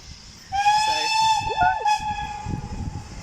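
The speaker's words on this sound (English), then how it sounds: "got a train coming in" A steam train whistle blows a steady, bright tone for about a second and a half, with a hissing rumble of the train underneath.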